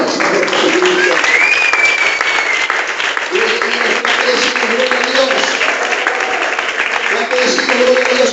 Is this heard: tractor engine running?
no